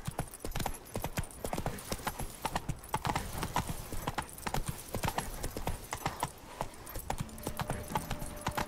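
Roach the horse galloping in The Witcher 3 video game, a fast continuous rhythm of hoof clip-clops, close and loud, with a faint tonal sound rising near the end and no talking.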